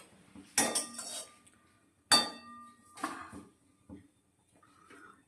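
An empty kadai (wok) is set down on a kitchen stove, giving a few sharp metallic clanks and clatters spaced about a second apart, with quiet pauses between them.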